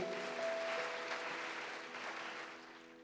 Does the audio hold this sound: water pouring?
no